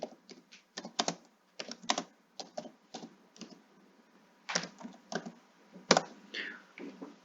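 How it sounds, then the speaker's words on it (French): Computer keyboard typing a short chat message, irregular clusters of light key clicks with brief gaps, close and fairly quiet, no voices. "Je peux écrire n'importe quel message."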